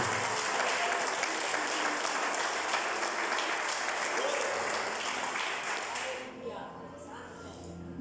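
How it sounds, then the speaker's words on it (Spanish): A church congregation bursts into loud, sustained applause with scattered voices mixed in, holding steady for about six seconds before quickly thinning out and dying away. "Denle un aplauso al Rey"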